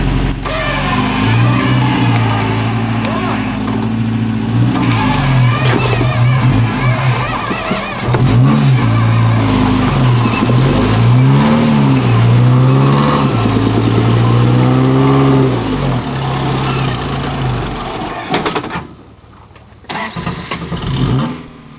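A 4WD vehicle's engine revs hard and continuously while its winch strains to haul it up over a boulder, loud and close, with a rising and falling mechanical whine that drops away near the end.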